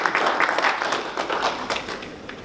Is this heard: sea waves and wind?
no